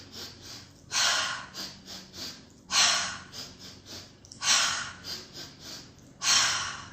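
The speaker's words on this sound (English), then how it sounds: "It's 3 quick inhales through the nose, and then an exhale through the mouth" Energy breathing repeated four times: three quick sharp sniffs in through the nose, then a louder, longer breathy exhale through the mouth, close and clear.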